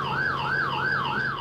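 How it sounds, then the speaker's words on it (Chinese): A phone's police help app sounds its emergency alarm: a loud, steady electronic siren wailing up and down in regular sweeps, about three full cycles, with no talking. "只要点一个，这是求救铃，就会发出警报声。"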